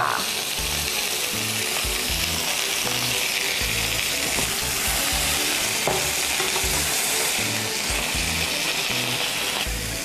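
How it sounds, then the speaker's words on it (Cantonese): Food sizzles loudly as it goes into a hot oiled pan, likely scallops being pan-fried, a continuous dense crackle with a few soft clinks and no talking. "擺落去，炸一聲㗎"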